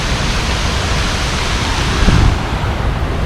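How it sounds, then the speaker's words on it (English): Flash flood water rushing along the Pipiwai Trail on Maui, a loud, steady broadband roar of churning water heard close and continuous, with a slight surge near the end. "with that sound of the flash flood"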